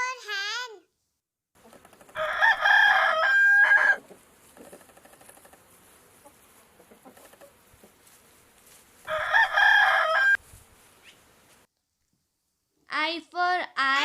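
Two loud bursts of clucking and crowing from cartoon poultry in a children's alphabet animation, each lasting a couple of seconds, with a voice speaking briefly at the start and end.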